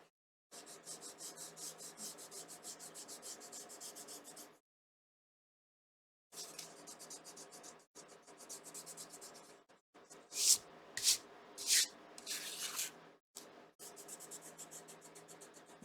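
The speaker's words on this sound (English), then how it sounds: "This is just a gum eraser," A kneaded gum eraser rubs across a surface in long, steady strokes with a close, dry scratchy texture, broken by pauses and a few sharper squeaky bursts near the end; no one speaks.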